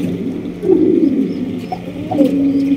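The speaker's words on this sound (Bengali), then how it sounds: "এখানে রয়েছে সিঙ্গেল একটা অ্যান্ডালুসিয়ান ফ্যান্টাল কবুতর" Soft, throaty cooing of pigeons at a pigeon farm, including an Andalusian fantail, a few low rolling coos close by against a faint steady background hum.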